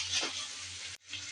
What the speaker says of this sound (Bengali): আর এদিকে আমি মশলাগুলো কষিয়ে নিচ্ছি।